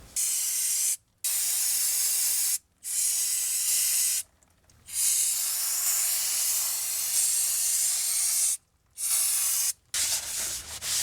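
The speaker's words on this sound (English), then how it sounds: "I'm just using this this brake parts cleaner." Repeated bursts of brake parts cleaner spraying on a 2004 Toyota Avalon's rear brakes, a loud close aerosol hiss held for a second or several at a time, separated by brief pauses.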